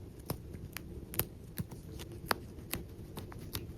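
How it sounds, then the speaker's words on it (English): Small snipping and picking sounds from a seam ripper cutting a stitch next to a zipper on a thrifted garment, a series of sharp soft clicks spread across a few seconds over quiet handling noise. "we're just going to seam rip that middle stitch that we did earlier."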